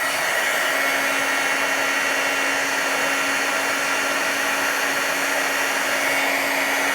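A handheld heat embossing tool blows hot air onto embossing powder on a card-making project, giving a loud, steady, even whoosh from start to finish with no talking.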